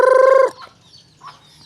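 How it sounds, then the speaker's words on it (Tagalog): A pet chicken gives one loud, close, drawn-out call, followed by softer clucks from the waiting flock. "nag-aabang na yung ating mga alagang manok"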